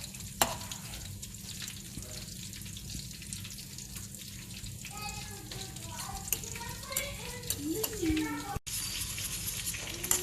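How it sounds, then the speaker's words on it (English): Curry roux block dissolving as it is whisked in a pot with onions and garlic, soft scraping and stirring with a light simmering sizzle throughout, steady and close, with a brief sharp knock near the end. "The block is dissolving, so I'm whisking it."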